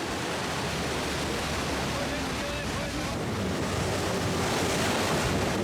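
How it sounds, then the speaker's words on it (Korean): A boat speeds toward Iguazu Falls through cool spray. A dense, unbroken roar of water and wind fills the whole stretch at a constant, loud level, with nothing standing out from the wash. "시원한 물보라를 맞으며 폭포로 향해 돌진한다"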